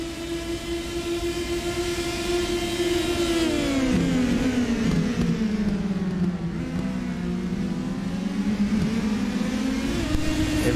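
Four racing cars cross the start-finish line at Laguna Seca, their engines loud and close, with overlapping tones that swoop downward as each car passes in one continuous roar.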